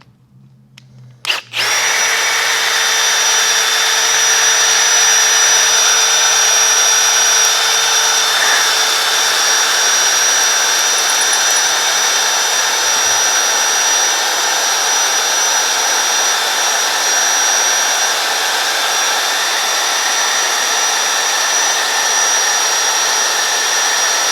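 A Matco cobalt HyperStep step drill bit bites into metal after a short click, settling into a loud, steady high-pitched whine with a constant motor drone for over twenty seconds, no talking over it.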